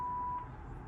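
A Panasonic KX-TG9541 DECT 6.0 two-line cordless phone's answering machine gives a single steady electronic beep lasting about half a second, then a quiet hiss follows.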